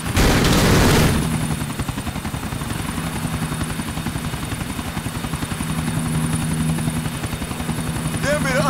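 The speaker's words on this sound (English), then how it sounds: "There be the other chopper." A helicopter in the video game Grand Theft Auto IV gives off a steady rotor drone with rapid rhythmic chopping, opening with a loud burst of gunfire or impact before the thrum carries on at close range.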